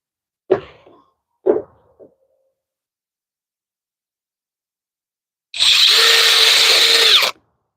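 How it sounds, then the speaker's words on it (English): A power drill bores into wood outdoors during a tree-stump seating project, giving one loud, steady whine of about two seconds, preceded by a few short knocks and handling sounds, with no talk. "I'll just drill that"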